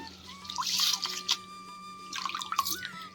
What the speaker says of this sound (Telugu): ఫుల్ ఫుల్గా వాటర్ పోసి మంచిగా రైస్ని కడిగేసుకోవాలి